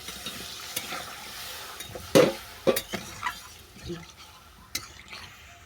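Spinach ghonto being sautéed in a pan, with a soft continuous sizzle broken by a few sharp spoon scrapes and clinks against the pan, close and moderately quiet.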